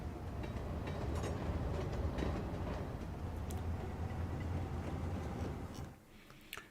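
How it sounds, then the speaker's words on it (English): A train runs through a rail scene in a video game, a continuous rumbling clatter with faint clicks that holds steady, then drops away abruptly near the end, no voices. "we actually have a train operating, which is wonderful"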